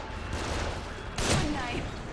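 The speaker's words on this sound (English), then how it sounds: "They're shooting from above." Gunfire raining down from above in The Evil Within, a continuous rattle of shots under game noise that swells into a louder burst partway through.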